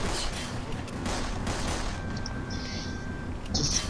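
Bursts of gunfire from a player's gun in the video game Tactical Intervention, a rapid volley of loud reports in the first two seconds, then a quieter stretch with faint tones and one more burst at the end.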